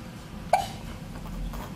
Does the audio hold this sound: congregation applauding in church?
no